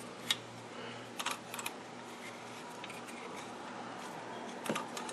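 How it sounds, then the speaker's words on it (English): A few quiet, sharp clicks come from the preset buttons of a Stromberg Carlson 64 radio, spaced irregularly against a faint hum with no talk. "I feel that clicking as I go past the presets."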